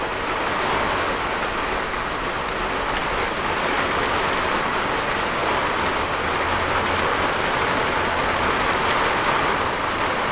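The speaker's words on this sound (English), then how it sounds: "Oh, that rain's getting worse." Heavy rain pours outside in a loud, dense, unbroken hiss that holds steady throughout, with no voices.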